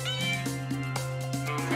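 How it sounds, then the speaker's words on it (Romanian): A cat meows in a drawn-out, tonal cry with rich harmonics and slight pulsing, heard close and fairly loud in a home setting, lasting nearly two seconds. "Ești cea mai bună pisicuță!"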